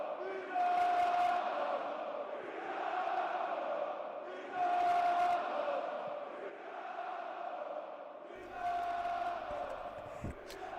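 A football crowd chants "Dynamo" at a Dynamo Dresden home match against VfL Osnabrück in the German third division. The massed voices swell in repeated loud waves over about ten seconds, heard from a distance across the stadium.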